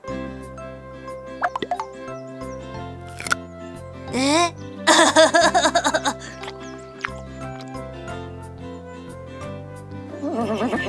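A cartoon horse whinnies loudly with a wavering, descending call amid cartoonish music and sound effects from an animated children's show, with short plops and clicks around it.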